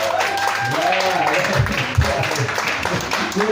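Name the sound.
audience applause for Woody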